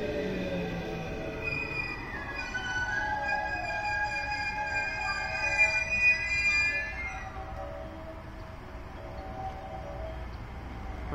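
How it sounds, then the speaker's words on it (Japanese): A JR 223 series 2000 eight-car train pulls into Uozumi Station during the morning rush, with sustained metallic wheel squeal and motor whine rising and gliding over a low rumble before fading out. "この列車は8両編成でもやってきたわけでございます。こちら223系の2000番台。"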